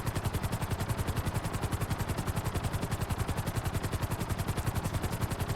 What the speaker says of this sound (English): But it's a good helicopter. It banks alright. It manoeuvres.